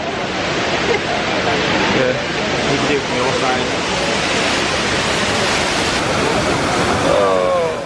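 Steady, loud rushing and splashing of falling water from the Trevi Fountain in Rome fills the scene continuously, with faint voices mixed in beneath the roar.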